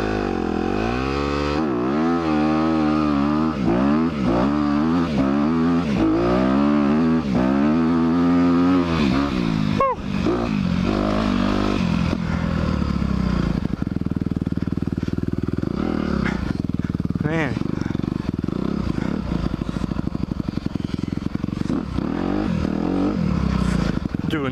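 A 2021 Honda CRF 250R dirt bike engine revs up and down in repeated rising and falling pulls while being ridden. After about ten seconds it settles into a steadier, rougher drone, loud and close throughout.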